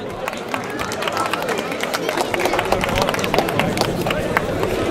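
A crowd at a rally award ceremony claps steadily and loudly, a dense, even patter of many hands with voices mixed in.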